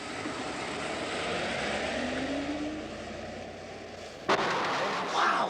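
Jet aircraft passing overhead with a continuous rushing roar whose pitch slowly rises, followed near the end by a sudden sharp loud burst and rumble.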